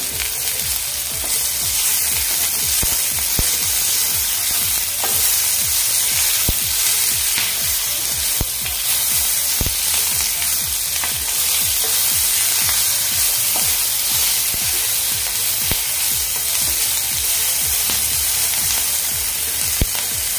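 Garlic and ginger sizzle loudly in hot oil in a pan for soya chunks masala, a dense continuous crackle with frequent sharp spits and stirring taps throughout.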